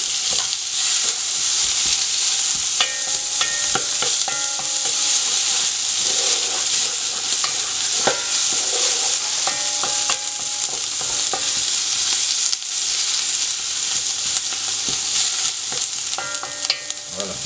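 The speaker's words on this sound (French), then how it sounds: "on va faire dorer les oignons" Onions brown in a pan over very high heat for veal osso buco, giving a steady loud sizzle and hiss throughout, with occasional scraping and stirring knocks.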